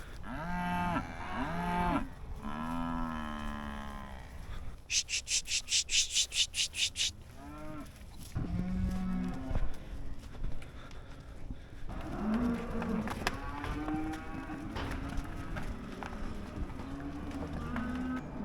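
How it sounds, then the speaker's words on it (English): Several dry cows mooing loudly and repeatedly while being chased back into a barn, some calls close and some farther off, with rustling and clattering movement in between. "We're gonna chase these dry cows back in the barn."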